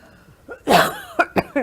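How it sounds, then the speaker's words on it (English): A sharp, explosive sneeze up close, followed by a few quick breathy bursts. "I'm going to sneeze, and this happens every time."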